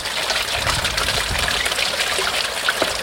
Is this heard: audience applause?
no